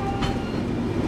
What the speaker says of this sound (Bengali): এইমাত্র আমাদের ট্রেন আসানসোল স্টেশনে ঢুকে গেল